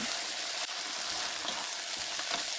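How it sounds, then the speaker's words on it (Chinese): Eggplant and shrimp with minced garlic being stir-fried in a wok, a steady broadband sizzle with a few soft scraping strokes, close and continuous, no voices. "出锅前再加入蒜末，进一步翻炒均匀"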